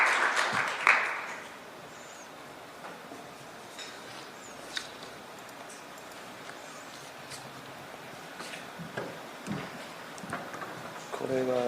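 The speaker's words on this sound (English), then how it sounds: "Please welcome the speaker with a warm round of applause." A conference audience in Seoul applauds to welcome a speaker; the clapping is moderate and fairly even, rising briefly at the start and end, with faint voices mixed in.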